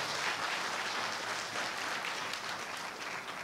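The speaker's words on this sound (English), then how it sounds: "give her a round of applause" Convention audience clapping for Nina Pham, the Texas nurse who survived Ebola, a soft but dense and steady patter of many hands heard at a distance, continuing evenly throughout.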